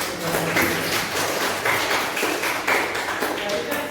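Classroom applause during a lesson, steady clapping from a group close by, with pulsing rhythmic claps that continue throughout.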